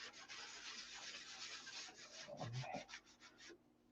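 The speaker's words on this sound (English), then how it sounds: "I'm holding this little soft block parallel to the cap strip, and I'm not sanding around like that." A soft sanding block is swiped along the paper-covered cap strip of a P-47 model airplane canopy, producing a quiet, close rubbing hiss in short strokes that ends in a few quick scratches.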